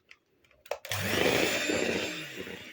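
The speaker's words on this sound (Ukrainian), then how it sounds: "До м'якого вершкового масла я додаю трішки ванільки і збиваю це масло ручним міксером." A handheld electric mixer starts up after a few faint clinks and whirs steadily at close range, whipping soft butter with a little vanilla, its motor drone continuous with slight wobbles as the beaters move through the bowl.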